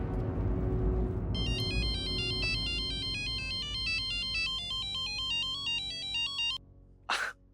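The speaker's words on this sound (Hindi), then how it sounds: "मिस्टर वागले, मैं अबे इन्हें फोन लगाती हूँ।" A telephone ringtone plays on a call, a repeating electronic melody that rings steadily for several seconds, then cuts off and is followed by a short sharp breath or sneeze.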